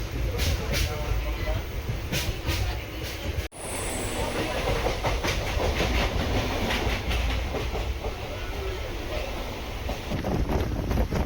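The Chennai Egmore Express rolls steadily along the rails with continuous clickety-clack and wind rush, broken by one sharp brief dropout, then resuming at full, close loudness.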